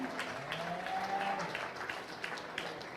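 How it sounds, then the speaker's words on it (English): A crowd at a July 2023 beef cattle show applauds the steer show entrants with a steady, moderately distant clatter of clapping lasting several seconds. "I think we should give all of them a big round of applause for all their efforts"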